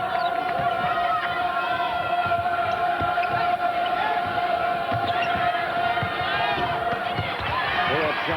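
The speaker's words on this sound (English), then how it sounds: "You can hear some of the 7 busloads of Worthington fans behind us trying to help the officials." Fans at a 2004 Class AAA high school girls basketball game, Worthington against Minneapolis North, shout and cheer from the stands in a continuous loud crowd roar, with a voice talking over it.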